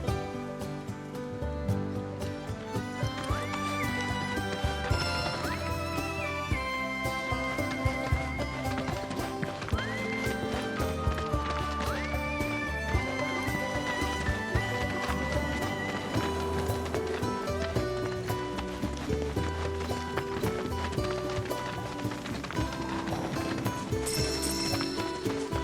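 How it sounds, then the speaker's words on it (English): Wild chocobo running in Final Fantasy VII Rebirth, its quick hoof-like footfalls patter steadily beneath loud, continuous orchestral music throughout. "I hear you have to wrangle yourselves a wild chocobo."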